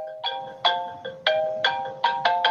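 A phone rings with a bright electronic melody of repeated chiming tones, several clear bursts in quick succession, sounding close and fairly loud with no talk over it.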